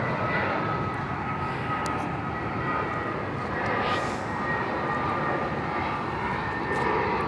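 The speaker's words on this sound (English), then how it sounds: "got a plane, don't know if you can see it" An airplane flies overhead above a city street in Belfast, its steady engine roar carrying continuously and fairly loud throughout, swelling slightly midway, with faint background voices.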